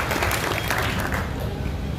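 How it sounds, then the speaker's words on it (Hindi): A crowd of young people at a political gathering in Samastipur bursts into loud, sustained applause for an election candidate, the clapping thinning toward the end. "एक बार जोरदार ताली बजाइए"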